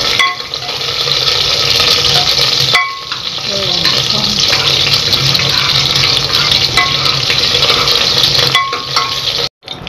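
Dried red chillies, about fifteen, fry in hot oil alongside roasted fenugreek seeds for a Rayalaseema menti pappu, a loud, steady sizzle with occasional stirring clinks, a brief dip near the end.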